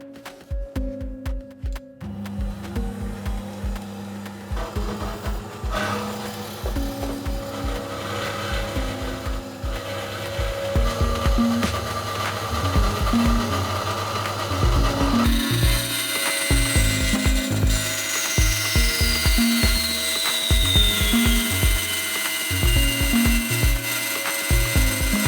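A band saw cuts through square steel tube with 2 mm walls, giving a steady, loud mechanical drone with rhythmic clunks and scraping, growing harsher and brighter as the blade bites deeper into the metal.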